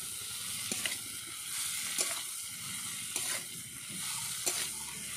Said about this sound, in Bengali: হলুদ গুঁড়ো দেওয়ার পর আবারও খুব ভালোভাবে নেড়ে নিচ্ছি।